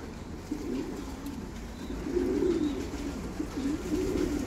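Young pigeons cooing close by, soft throaty rolling coos repeating in low bursts over a steady background hum, with no one talking.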